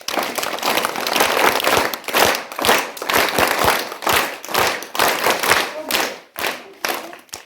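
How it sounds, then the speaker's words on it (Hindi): A crowd at a memorial site fair claps loudly and close, a dense patter of many hands with sharp individual claps, swelling and easing in waves over several seconds. "इनके लिए सब लोग ताली बजाइए।"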